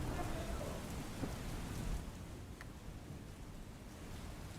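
Heavy monsoon rain in Bhuj, Kutch, pours as a steady, fairly faint hissing wash, a bit fuller at first and then settling to an even drizzle-like patter, without voices.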